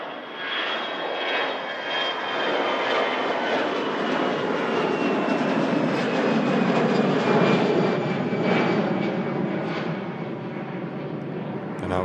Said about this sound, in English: And out goes that EasyJet heading out to Cantonia.